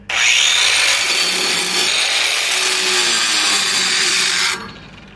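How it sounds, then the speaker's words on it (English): An angle grinder working a 6010/7010 downhill weld bead on a 6G pipe joint, a loud, steady abrasive screech that starts abruptly and runs about four seconds before spinning down. "you're going to need to come in with your grinder now, and now you got to grind this side and this side"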